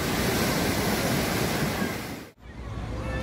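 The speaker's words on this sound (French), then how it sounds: "Normalement, les vagues des rivières ne sont pas aussi intenses, mais la rivière Hooghly, c'est autre chose." Rough waves churn on the Hooghly river, a loud, steady wash of surf and wind-like roar with no voices, dipping briefly to near silence before the rushing water swells back.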